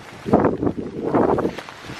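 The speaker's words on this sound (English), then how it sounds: "it's getting really windy" Rough, gusty wind buffets the microphone in two loud surges, a low roaring rumble that swells and fades with no voices.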